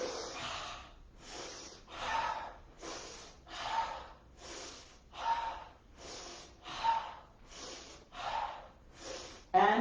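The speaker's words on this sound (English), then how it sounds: "Deep breath." Deep, loud breaths during a polarity yoga session come close and regular, each long inhale or exhale followed by a short pause, repeating about a dozen times with no talking.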